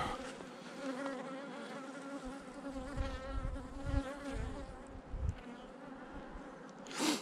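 Honey bees from a small swarm hum in a steady, continuous drone, close and fairly loud, with the buzz wavering as they move; a few soft thumps come from below.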